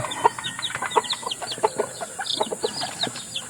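Golden chickens clucking in a backyard, a flurry of short, close clucks and chirps overlapping in a quick, uneven chatter.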